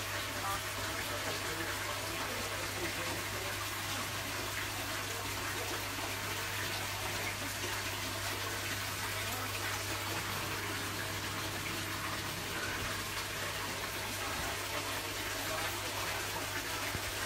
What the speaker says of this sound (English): I am putting cold water in there because I left half of it hot.